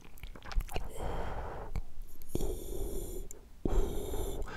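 A voice imitates Darth Vader's breathing with heavy, close-miked breaths that rasp in and out in slow, uneven cycles.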